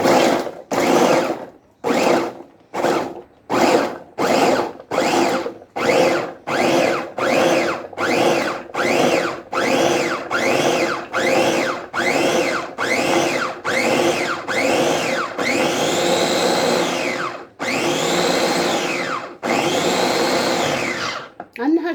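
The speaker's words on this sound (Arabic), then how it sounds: "غادي نطحن نهرمش العناصر ديالي" An electric food chopper grinds carrots, onion and peppers in a loud whirring drone, first in many short, rapid pulses, then in longer sustained runs that rise in pitch as the pieces break down.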